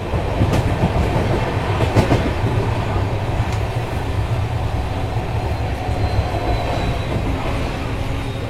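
Yesvantpur to Vasco da Gama Express rolling along near Navalur, a steady loud rumble with rhythmic wheel clatter over the rails and occasional faint squeals, no voices.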